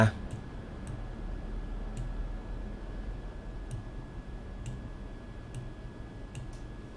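A computer mouse clicks faintly while a WordPress menu is edited: about eight sparse, dry clicks spaced irregularly over a steady low background hiss.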